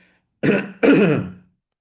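A woman coughs and clears her throat during a Spanish-language webinar: two loud, harsh, close bursts in quick succession, the second longer and rasping, with silence before and after.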